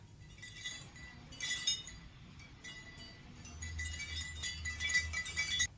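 Palmetto fronds handled by a Foley artist to imitate bells, giving bright, delicate clinking and rustling accents in irregular bursts, fairly faint and close, with no talking.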